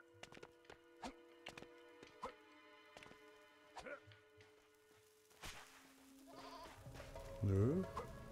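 Goat bleating in the LEGO Pirates of the Caribbean video game, a wavering bleat near the end that follows a series of scattered clacks and thuds, with someone talking over the game sounds.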